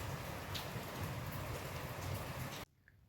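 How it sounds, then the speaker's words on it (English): Heavy downpour of rain, a dense, steady hiss of falling water that stays loud and constant, then cuts off abruptly near the end, leaving near silence. "It's a heavy downpour here."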